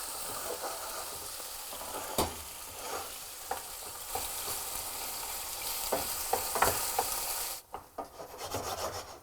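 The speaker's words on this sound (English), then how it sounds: "the meat's browning off nicely" Lamb meat sizzles and scrapes as it browns in a hot frying pan, with steady frying hiss and intermittent clicks and stirring rubs, close up and moderately loud.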